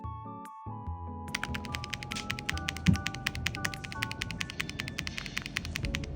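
Steady typing on a Redragon Eisa K686 PRO SE mechanical keyboard with smooth linear switches, rapid muted keystrokes in a continuous run after a brief hum at the start.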